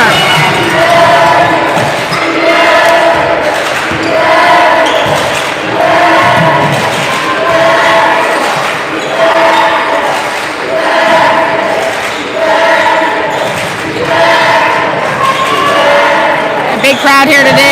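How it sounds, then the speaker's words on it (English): A crowd of about 400 to 500 fills a high school gym during a girls' championship basketball game, a loud continuous murmur with rhythmic swells, ball bounces and shoe thumps, and a commentator talking steadily over it throughout. "Big crowd here today. I'd say there's upwards of 400 or 500 people in the gym."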